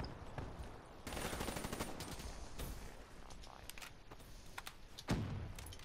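Rapid automatic gunfire from a gun in a first-person shooter match, bursts of shots running through most of the moment with a heavier thump near the end, loud and close over game ambience.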